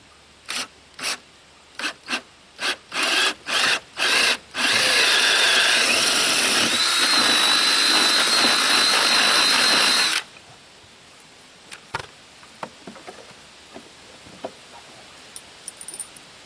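Drill bit boring a hole in wood for an idler arm bolt: several short rapid bursts first, then one sustained loud grinding run of about five seconds, then it stops, followed by faint scattered clicks and handling noise.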